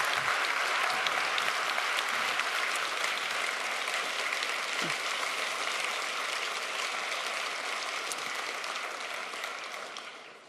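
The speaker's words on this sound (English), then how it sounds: "Please give a very warm round of applause for Margrethe Vestager." A large keynote audience gives a sustained, even round of warm applause, a dense wash of clapping that holds steady for about ten seconds before beginning to taper.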